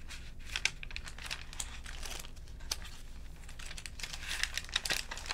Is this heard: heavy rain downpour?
no